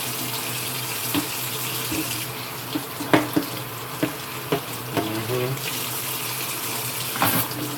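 Tap water runs steadily into a sink while a washcloth is rinsed, a continuous close splashing rush broken by a few brief knocks and clatters.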